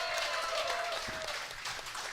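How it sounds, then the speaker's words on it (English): An audience applauds at a college football coach's show, welcoming a new scholarship player; steady, dense clapping fills the short stretch at an even level. "another round of applause for the newest member of the scholarship squad, Giovanni Iovino."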